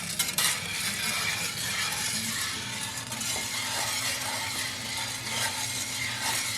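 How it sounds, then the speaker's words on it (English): Coffee beans being stirred with a whisk in a frying pan make a continuous close rattling, scraping clatter that keeps an even level throughout, with no talking. "you want to immediately start stirring because you don't want to end up charring the beans on one side"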